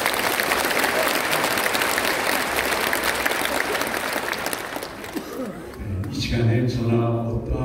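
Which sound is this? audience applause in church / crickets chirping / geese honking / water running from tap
audience applause in church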